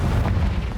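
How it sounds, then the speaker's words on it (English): Confringo fire spell explosion in Hogwarts Legacy: a loud, close, deep booming blast with a rumbling low-end roar that sustains briefly, alone without talk. "Confringo."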